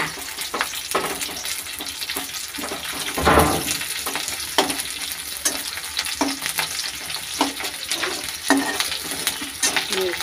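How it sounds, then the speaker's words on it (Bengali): Curry leaves and onion fry in a pan with a continuous loud sizzle, broken by a few stirring scrapes and one brief louder burst partway through. "এই যে কারি পাতা আর পেঁয়াজটা ভেজে নিচ্ছি"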